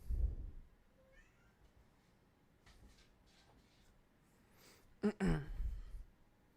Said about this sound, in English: Y'all hear this cat?